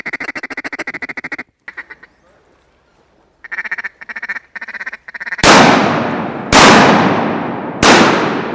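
Loud shotgun blasts during a mallard duck hunt in flooded Arkansas timber, three booming shots with long ringing decays following a run of close duck quacks.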